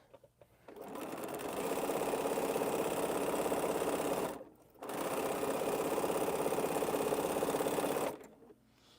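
Domestic sewing machine stitching two quilt pieces together, a close, steady whirring hum in two long runs separated by a short stop, with a faint low motor drone underneath.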